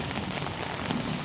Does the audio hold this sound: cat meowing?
no